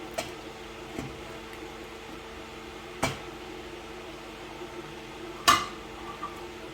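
A spoon stirs beef bolognese sauce in a pot, giving a few sparse metallic taps and scrapes against the pot spread over several seconds above a low kitchen hum.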